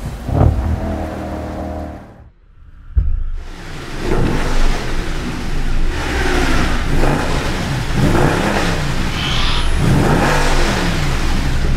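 A 6.2-liter V8 in a Mercedes-Benz C63 507 Coupe revs hard and loud, with rising and falling engine pitch sweeping through repeated throttle blips after a brief quiet gap, on a wet, rainy day.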